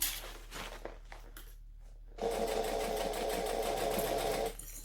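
A sewing machine stitches slowly through a bulky seam with piping and thick seam allowance, a steady continuous whir running close and loud for a couple of seconds after some fabric rustling and handling.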